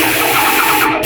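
A Titan 440 airless paint sprayer pump runs at full pressure, giving a dense, rapid mechanical buzz with a high whine, loud and close, with a brief dip near the end.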